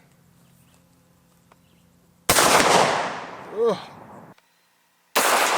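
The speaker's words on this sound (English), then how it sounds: "a 1-ounce hollow point 12-gauge slug" A 12-gauge shotgun fires a 1-ounce hollow point slug outdoors, a single sharp, very loud blast that rings and echoes for about two seconds. It then cuts off abruptly, followed by a short grunt and a second loud burst at the end.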